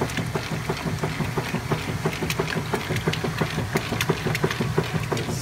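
Whirlpool direct drive washing machine agitating a load of towels in hot water at a medium level, a steady rhythmic churning hum with repeated knocking pulses, close and continuous with no speech.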